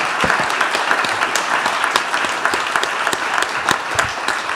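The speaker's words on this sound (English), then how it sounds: "can we please give a round of applause for our debaters?" A crowd gives sustained applause to the debaters at a panel event on nature markets, the dense clapping steady and fairly loud throughout, with no talking over it.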